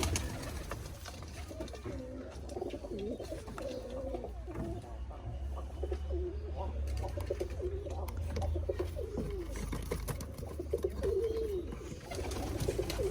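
Fantail pigeons coo inside their coop in soft, repeated throaty calls, fairly quiet, with a low background hum running underneath.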